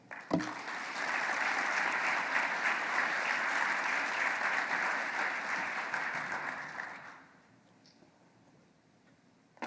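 An audience applauds to welcome a lecturer, a steady wash of clapping from a large crowd that holds for about seven seconds and then fades out into near silence.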